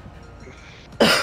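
A man, the boss on a farm in Farming Simulator 2022, gives one sharp, close cough that bursts out abruptly after quiet background noise.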